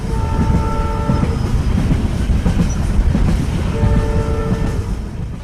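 Cartoon train pulling into a railway station at night, loud continuous rumbling and clatter of wagons with sustained horn blasts near the start and again toward the end, no voices.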